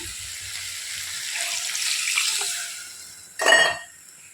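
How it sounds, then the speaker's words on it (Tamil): Water streams and hisses into a pan of cooking okra for a few seconds, fading out, followed by a brief sharp splash-and-sizzle burst near the end. "இப்போ இதில் தண்ணி ஊற்றிடுவோம் வேகட்டும்"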